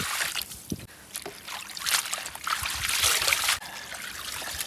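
Chicken gizzards are washed by hand in water, making close, wet sloshing and trickling sounds with irregular splashes and squelches throughout.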